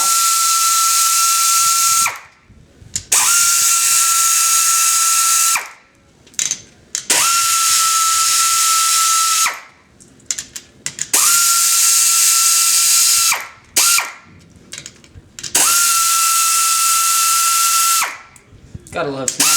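Snap-on ratchet wrench or power driver loosening head nuts on a vintage engine, with four long steady whirring bursts separated by short clicking pauses, loud and close.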